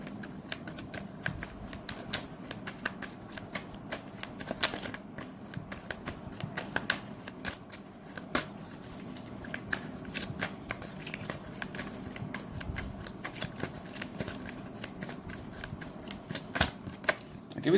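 Tarot cards shuffled by hand during a reading, a steady stream of soft riffling clicks and slaps running throughout at close range, with no talk over it.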